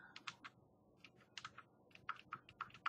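Typing on a computer keyboard while laying out a document, with irregular bursts of crisp key clicks in quick clusters separated by short pauses, close and fairly quiet, with no voices.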